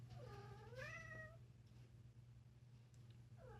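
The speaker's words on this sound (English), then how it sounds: "my cat is in heat" A female cat in heat gives a drawn-out, rising and falling meow, then a shorter call follows near the end, close but fairly quiet over a steady low hum.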